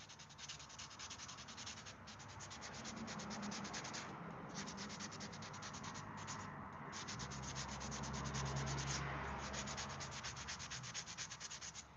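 Steady rhythmic sanding of a knife handle with fine-grit paper and oil, continuous scratchy strokes close up, with brief pauses between passes and no talking.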